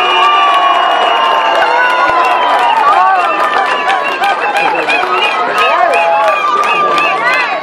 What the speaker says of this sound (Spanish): Vamos con aplauso para los